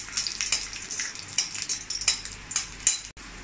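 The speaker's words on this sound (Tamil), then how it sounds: "முந்திரி திராட்சையை வந்து நம்ம வறுத்தெடுத்துடலாங்க" Cashews and raisins frying in ghee over a medium flame, a light crackling sizzle with repeated soft stirring scrapes and small clinks, close but quiet, briefly cutting out near the end.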